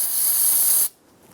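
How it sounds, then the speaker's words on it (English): Solvent sprays from an aerosol can onto a 1997-2006 Jeep Wrangler cylinder head during exhaust manifold work, a loud steady hiss lasting under a second before cutting off sharply to near silence. "Use some spray solvent."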